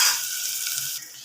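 Garlic and shallots sizzle steadily in hot oil as tempering for a vegetable dish, a fairly soft, even hiss with no talk.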